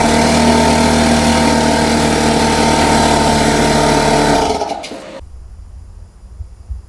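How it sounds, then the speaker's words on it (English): Small air compressor running on an Anker SOLIX F2000 power station, a loud droning motor hum with steady tones that winds down and cuts out near the end, leaving quiet rustling. "I pulled out my small air compressor"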